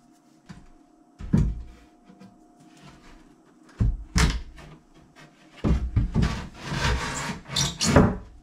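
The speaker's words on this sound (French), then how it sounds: "On va mettre la planche pour voir ce que ça donne." A wooden board set onto a newly built toilet frame fixed into the walls, several hollow wooden knocks, thumps and scrapes at close range, sparse at first then busier toward the end.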